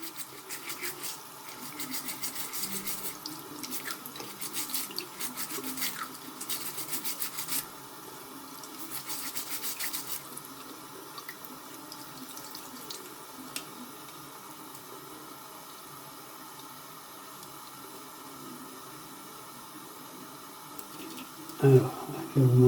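Cold water runs steadily from a tap into a sink, a soft, continuous splashing hiss that holds for over twenty seconds at moderate level, with some clattering and a louder bump near the end.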